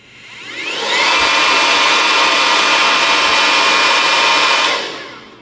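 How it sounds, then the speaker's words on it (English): BaBylissPRO Rapido blow dryer on highest heat and highest speed spins up to a loud, steady airy roar with a faint whine, holds for several seconds, then powers down. "And this is the Babyliss highest heat setting,"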